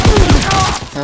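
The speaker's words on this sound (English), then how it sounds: "I'm suppressing fire!" Gunfire in the video game Call of Duty WW2 during a multiplayer match: a loud, close, rapid burst of shots lasting about a second with a short trailing crack.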